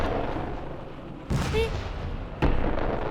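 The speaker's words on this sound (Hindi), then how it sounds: "मैंने बम गोलों की आवाज सुनी अभी" Bomb and gunfire effects in a Hindi comedy show burst out as two sudden loud booms over a steady crowd and room background.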